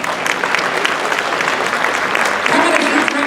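A charity auction crowd claps steadily after a lot is sold, a dense, close wash of applause that holds throughout with voices mixed in.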